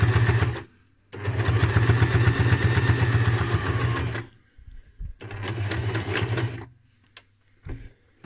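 A domestic sewing machine stitching leather runs in two loud mechanical bursts with a rapid, even needle rhythm and a slightly unhealthy tone, pausing in between and ending in a few short stops.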